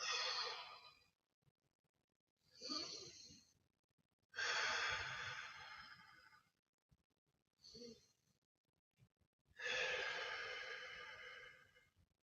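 Slow, deep breaths during a full-body stretching workout, several long airy exhales and inhales separated by quiet pauses, close and clear with no talking.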